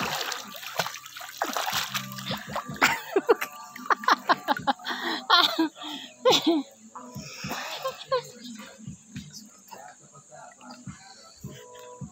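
Water splashes and sloshes as people bathe in a deep pool, with irregular close splashes scattered through the clip and voices talking over them.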